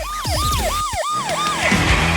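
A siren switched on wails in rapid rising-and-falling sweeps, repeated about five times, loud and close, with no one talking over it.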